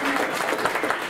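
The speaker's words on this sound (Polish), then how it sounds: "Brawa dla niej." Brief burst of audience clapping at a Polish school's Grandparents' Day event, dense and steady with a voice briefly heard.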